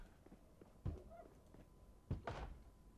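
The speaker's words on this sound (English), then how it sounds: "there's definitely somebody banging on this house" Someone bangs on a house in the game Project Zomboid, two dull, muffled thumps about a second apart, fairly faint and distant with a soft rumble between them.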